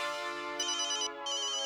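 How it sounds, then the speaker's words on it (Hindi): A phone ringtone plays loud and alone in a home setting, a steady electronic melody with repeating tonal phrases and a brief gap before it resumes. "देखो देखो, शायद सोनू का ही फोन हो."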